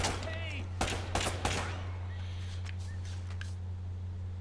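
Bursts of gunfire from Uncharted: Drake's Fortune, several sharp shots clustered in the first second and a half, with a steady low hum and fainter scattered pops afterward.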